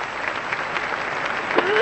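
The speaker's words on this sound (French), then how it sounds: "Et ils applaudissent pour ça, bah dis donc." Crowd applause from the PlayStation tennis game Yannick Noah 2000, a brief, steady wash of clapping with someone talking over it.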